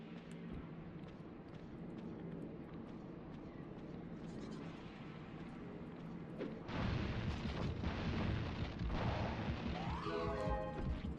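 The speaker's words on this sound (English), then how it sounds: "Suicide bomb activated." A suicide bomb goes off in Baroque with a loud, crashing burst that rises abruptly out of a low game hum and rumbles on for several seconds.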